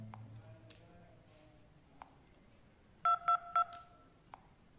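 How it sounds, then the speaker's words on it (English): A smartphone keypad sounds a short run of three DTMF dialing tones in quick succession while a call is placed, alongside faint clicks and a quiet background. "Just make a phone call"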